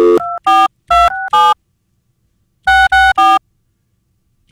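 A cell phone dials a call with a series of loud, clear beeping tones in two quick bursts separated by a pause.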